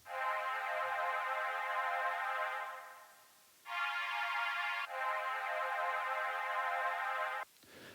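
A synth pad in Ableton holds a couple of sustained, bright harmonic notes, one long tone, a brief shift to a higher chord, then another long tone, clean and alone with smooth fades.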